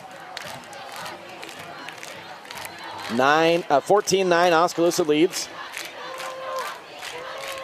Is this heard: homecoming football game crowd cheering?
yes